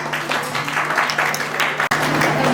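Loud applause from the audience at a scholarship ceremony in the Sundarbans, a dense, continuous clapping that fills the room and briefly drops out once near the end.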